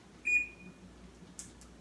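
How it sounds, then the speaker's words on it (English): A stove timer gives one short, high electronic beep, followed by a brief faint rustle in a quiet room. "I'm going to get a buzzer going on my stove"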